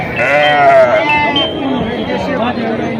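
Sheep bleat loudly and close by at a busy livestock market in Nashik, with wavering cries overlapping one another while a crowd murmurs and people chat in the background.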